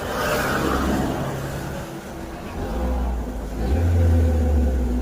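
A car's engine is revved on the spot, a low steady rumble that climbs into a louder, stronger roar near the end, close by, with faint voices in the background.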